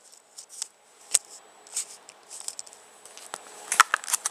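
Safety wire gets cut off while fitting fork speed bleed valves on a 2016 KTM 300 XC-W 6 Days dirt bike, a series of sharp metallic snips and small clicks, close and fairly quiet, spread unevenly across a few seconds.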